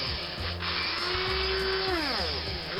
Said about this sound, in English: here we go, we're actually drilling there